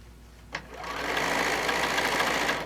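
Sewing machine top stitching through many layers of a fat quarter tote bag, starting after a brief click and then running steadily and fast at close range.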